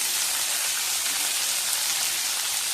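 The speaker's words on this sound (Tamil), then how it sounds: "பூண்டு போட்டுக்கிறேன், கொஞ்சம் பச்சை மிளகாய், கொஞ்சம் கருவேப்பிலை" Garlic, green chillies and curry leaves sizzle steadily in hot oil for a South Indian gravy, a dense, even hiss heard close and alone.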